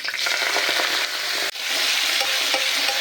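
Cumin, black pepper, bay leaf, asafoetida and fresh fenugreek leaves frying in hot oil, a loud, dense continuous sizzle close by with stirring, broken by one brief dip.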